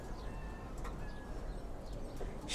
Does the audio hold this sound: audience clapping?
no